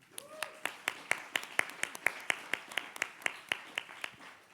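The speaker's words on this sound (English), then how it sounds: "So please, give a round of applause to my late great mom" Steady, evenly spaced claps ring out roughly every quarter second, a single pair of hands or a small audience keeping a regular beat, moderately loud and close with no talk over them, honoring the speaker's late mother Karen Oberg at an animal rights conference.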